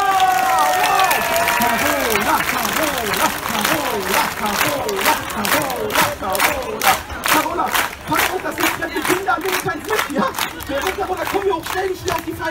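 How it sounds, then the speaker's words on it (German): A crowd at an outdoor park festival bursts into cheering and shouts, which give way to sustained rhythmic clapping, loud and close, with voices calling out early on. "Das ist dein Applaus"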